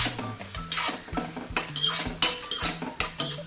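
Onions sautéing with a little salt in a metal pan, stirred with a utensil that scrapes and clinks against the pan in repeated strokes, loud and close, with no talk.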